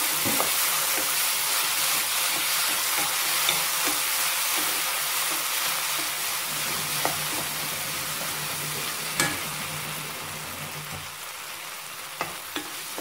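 Close sizzling of ginger-garlic paste and masala frying in a pan, with occasional scraping and clicks of a spoon stirring, steady throughout and no talking.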